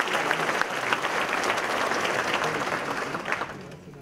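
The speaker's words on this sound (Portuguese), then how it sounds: "Uma salva de palmas a mais, governador," Audience at a São Paulo agriculture event applauding the governor, a full sustained burst of clapping that stays strong and then fades toward the end.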